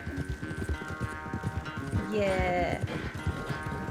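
A horse gallops in Red Dead Redemption 2 with a fast, rhythmic clip-clop of hooves close up, steady throughout, under game dialogue and a brief spoken response.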